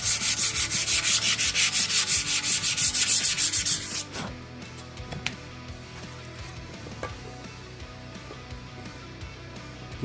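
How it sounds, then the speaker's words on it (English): Bare metal being sanded by hand with 180-grit sandpaper, rapid rhythmic back-and-forth strokes, loud and close, for about four seconds before stopping, followed by faint handling noises. "180 by hand, you get a nice even scratch"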